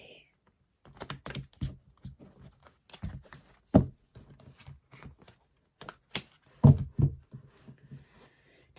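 Playing cards are shuffled near at hand in quick bursts of riffling and clicking, several uneven attempts with pauses between them, and a person talks in between.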